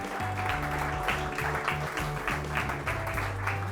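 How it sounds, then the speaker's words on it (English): A crowd at the Yas Links Golf Club applauds the winner of a golf tournament. The clapping is steady and moderate, with a low tonal drone running underneath. "Applause for Hinton, and fully deserved."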